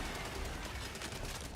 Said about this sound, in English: Gonna bat 500 on the grenade pistol shots here.